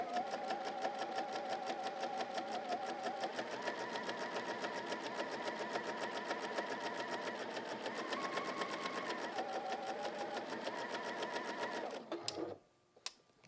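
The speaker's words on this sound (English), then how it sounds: "I'm now going to sew around the edge." A sewing machine stitching around the edge of a pin cushion on a long stitch setting, running in a close, steady mechanical whir for about twelve seconds before stopping with a few small clicks.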